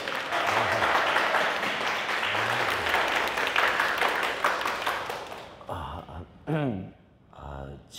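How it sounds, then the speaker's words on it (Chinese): Group applause fills a school setting, dense steady clapping for about five seconds before it fades out and a voice starts talking. "鼓掌，鼓掌，鼓掌！"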